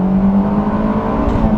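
A 2005 Honda S2000 engine revs hard toward redline, a loud, steady, high-strung mechanical drone holding one pitch close to the microphone throughout, with no talking.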